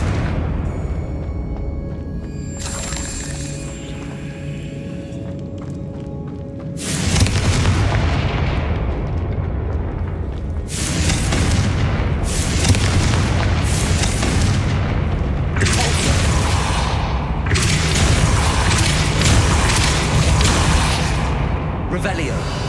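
Blasting-curse spell explosions from a Harry Potter video game, a series of loud booming bursts following one another at close range, with a voice casting spells in between.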